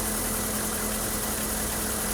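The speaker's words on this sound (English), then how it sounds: "It's idling fine, isn't it?" A car engine idles after being repaired by a mechanic, a steady, loud mid-pitched drone that holds even throughout with no other sounds over it.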